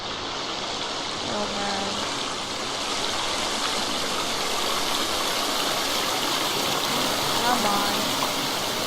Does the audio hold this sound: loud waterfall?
yes